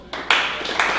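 Short burst of applause from an audience at a tech meetup, a few seconds of clapping that starts abruptly and swells in two quick surges.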